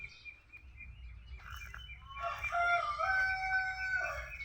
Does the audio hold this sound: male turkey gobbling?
yes